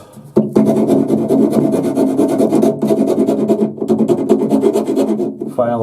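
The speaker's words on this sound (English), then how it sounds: "file a little chamfer into the end of the pipe" A hand file rasps in steady back-and-forth strokes, close and loud, while chamfering the end of a plastic bath waste pipe.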